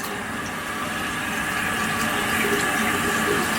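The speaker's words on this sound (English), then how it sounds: "So I'm gonna put some water on it." Water sprayed onto a sectioned part of natural hair during styling, a continuous fine hiss of spray mist, steady and fairly close, with no talking.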